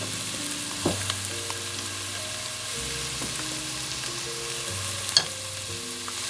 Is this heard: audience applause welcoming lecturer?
no